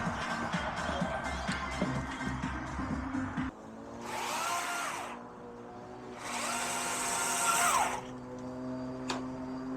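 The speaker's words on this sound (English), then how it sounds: "We need a new chainsaw chain on that." Two bursts of a chainsaw with a worn chain roaring through rotten barn wood, each a few seconds long, follow a stretch of busy rumbling background noise.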